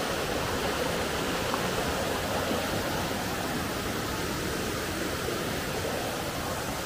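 Flowing water of a shallow stream at Caunayan Falls gives a constant, even rushing wash, close and unbroken throughout.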